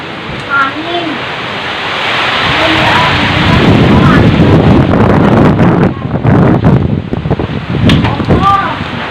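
Strong typhoon wind roaring loudly and steadily, buffeting the microphone with a dense rushing sound, and a voice speaking briefly over it.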